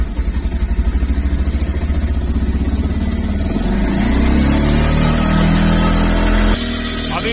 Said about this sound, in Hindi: उसके बाद इंजन को स्टार्ट करना है और लगभग 4000 आरपीएम तक रेव